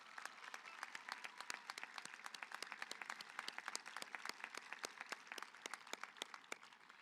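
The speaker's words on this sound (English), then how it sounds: "Please join me in one round more of applause for our senior singers and musicians." A high school graduation audience applauds the senior singers and musicians, a fairly quiet, distant patter of many hands with distinct individual claps popping through a steady crowd wash.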